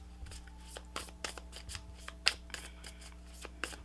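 Tarot cards being shuffled by hand, a series of close, crisp riffling and slapping bursts at an irregular rhythm, fairly quiet and with no talk over them.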